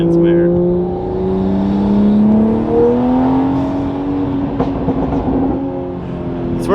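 Toyota Supra MK5 engine at half throttle with intake air rushing, a steady mid-pitched drone that climbs gradually as the car pulls along, heard from inside and fairly loud.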